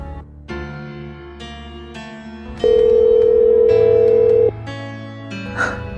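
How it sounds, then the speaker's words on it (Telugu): A telephone dial tone hums, interrupted by a run of short dialing beeps and a brief steady tone, with a faint chirp near the end. "నా ఫోన్కు డైల్ చేసి చూస్తాను"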